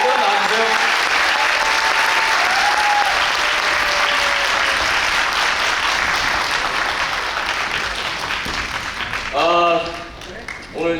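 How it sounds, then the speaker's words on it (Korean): Loud, prolonged theater applause as actors are called out for a curtain-call stage greeting at the final performance of the Korean musical Crash Landing on You, with a host's voice heard over the clapping near the start and end. "그럼 큰 박수로 우리 배우들 불러주세요."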